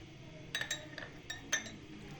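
A spoon knocks against a glass while honey mixture is stirred, giving a few light, bright clinks in two short bursts over a quiet background, with no talk.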